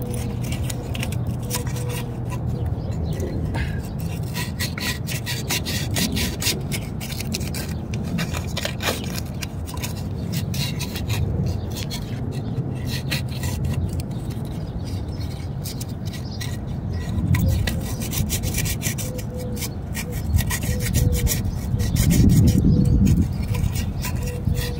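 Sandpaper works over a defective heater coupling from a 2008 Suburban, giving steady close-up scraping strokes in a continuous rasping rhythm, with no talk over it.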